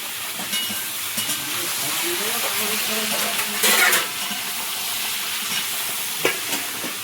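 Taro stolons fry in oil with salt, turmeric and chilli, making a continuous close sizzle with scraping stir sounds and a brief louder burst of hissing partway through.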